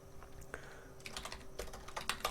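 Typing on a computer keyboard, with quick clusters of soft, close keystrokes that start slowly and speed up into a rapid burst over a faint background hum.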